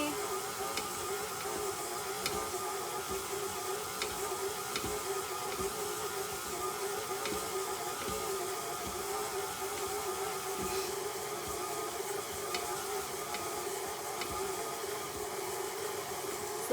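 An electric mixer creams butter, sugar and other oatmeal chocolate chip cookie ingredients in a bowl, giving a steady, continuous motor whir with faint ticking throughout and no talk.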